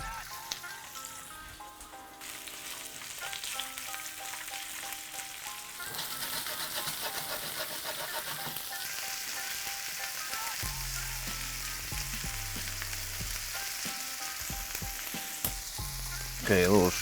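Shrimps fry in a hot pan with a steady crackling sizzle that thickens after a few seconds, with occasional stirring clatter and low background sounds.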